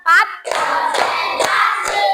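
A class of students claps in a counted pattern, four sharp, evenly spaced hand claps ringing out close by, with a brief voice at the very start.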